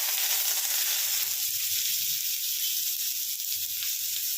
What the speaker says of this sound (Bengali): এখানে তেল গরম হয়ে গেছে, এবার আমি একদম কুচি করে রেখেছি পেঁয়াজগুলো ছেড়ে দেব।